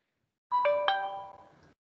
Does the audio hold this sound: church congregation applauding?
no